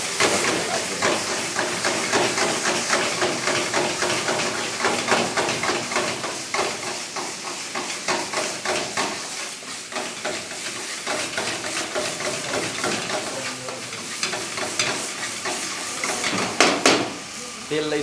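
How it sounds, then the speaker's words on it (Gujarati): Garlic and chili paste fries in plenty of oil, giving a dense, continuous close sizzle with hissing steam and bursts of crackle throughout, while a voice talks over it. "અંદર અત્યારે જ આ તેલમાં બરોબર ફ્રાય થયું, લસણની સ્મેલ ધમધમી રહી છે મરચા સાથે."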